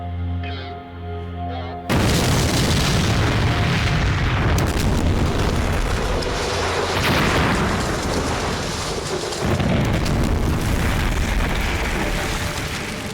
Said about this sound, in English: Then we set off the flam bomb.